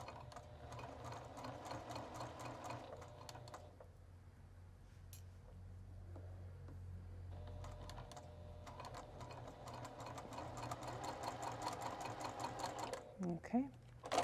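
A sewing machine stitches a sleeve seam in fast, steady mechanical bursts, close and clear, with short pauses between runs and a final clatter at the end.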